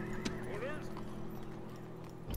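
Horses neigh and hooves clip-clop in a Rome: Total War battle, the whinnies rising over a steady dense wash of game sound and soft hoofbeats while someone speaks over it.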